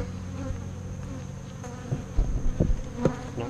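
Bees buzz steadily around a hive in a continuous close drone, with a few louder individual bees passing near toward the end.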